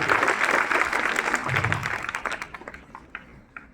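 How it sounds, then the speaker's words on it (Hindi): A group of disaster-management trainees gives a round of applause for their fellow trainees, a dense burst of clapping that thins out into scattered claps, with some voices underneath. "एक जोरदार ताली साथियों के लिए"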